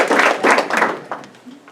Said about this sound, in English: please no clapping because it just takes time